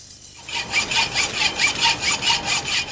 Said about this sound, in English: It's pretty hard stuff for the hacksaw.